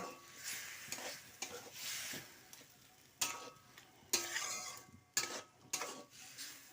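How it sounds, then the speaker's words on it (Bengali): Pumpkin greens being stirred with spices in a pan, a steady scraping and sizzling with intermittent louder clinks of the spatula against the pan, close and without talk. "মশলা কষানোর পর আমি কুমড়ো শাকটা দিয়ে দিয়েছি এটা ভালো করে নেড়ে নেব"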